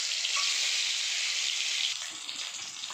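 Boiled eggs fry in hot mustard oil with turmeric in a kadai, giving a loud, even hiss and sizzle that carries on steadily with a few soft spatters, no voices.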